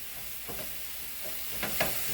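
Lean ground beef sizzling in a pan while being stirred and turned, a soft steady hiss broken by a few light scraping strokes, close and fairly quiet with no talk.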